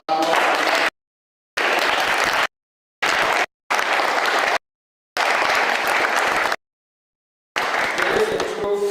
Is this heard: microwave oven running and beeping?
no